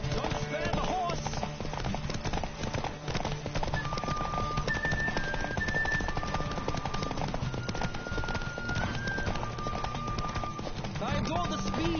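Fast, continuous hoofbeats of a galloping horse in The Witcher video game, layered with game music and ambient sound, with a voice heard briefly.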